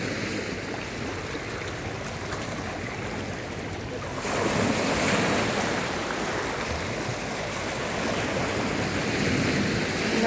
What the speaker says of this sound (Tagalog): Ang sarap ng hampas ng alon.